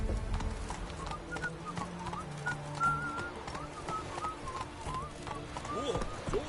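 Roach, the horse in The Witcher 3, gallops in a rapid rhythmic clip-clop of hooves under ambient game sound, with faint whistling, bird-like tones and a brief voice.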